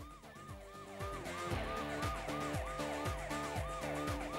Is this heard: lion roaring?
no